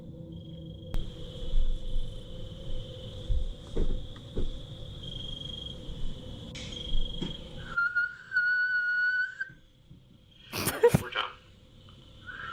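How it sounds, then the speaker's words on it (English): A high whistle tone runs steadily for several seconds over a low hum, then shifts to a brighter, wavering pitch before a few sharp noisy bursts near the end. "The whistle. What is that?"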